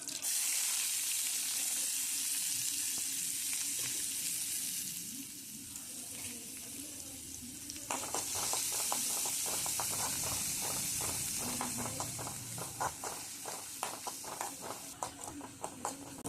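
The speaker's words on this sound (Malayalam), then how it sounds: "ഉള്ളി നന്നായിട്ട് വഴറ്റിക്കൊണ്ടിരിക്കുകയാണ്." Onions sautéing in a pan for an agathi (hummingbird tree) flower stir-fry, a steady broadband sizzle with faint tap-water rush and stirring clicks, softer mid-clip then returning with rhythmic scraping taps; no talk.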